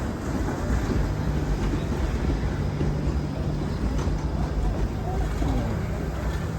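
A Toronto streetcar rumbles past on a downtown street near the CN Tower, a steady low rolling drone with faint squeals, under constant city noise.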